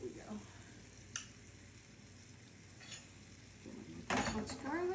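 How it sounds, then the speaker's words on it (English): Garlic sizzles in a hot pan with chicken broth for a chicken piccata, a steady soft crackle with a couple of brief clinks and a louder burst near the end. "And now we can go in with our garlic."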